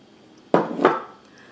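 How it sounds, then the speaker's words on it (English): Two eggs are added to spice cake mix cookie dough: two quick, close knocks a fraction of a second apart, with a short wet trail after, in a quiet kitchen. "Now to that, we're going to add 2 eggs."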